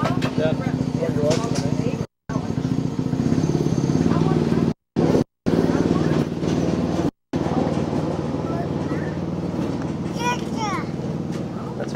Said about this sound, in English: Hey, tractor.